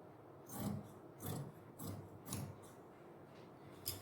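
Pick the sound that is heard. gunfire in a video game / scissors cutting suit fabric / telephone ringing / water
scissors cutting suit fabric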